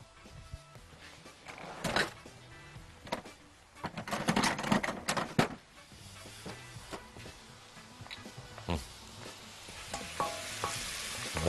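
Rice and other ingredients are stirred in a frying pan in a restaurant-style kitchen, with a utensil scraping and clattering over a soft, continuous sizzle at close range.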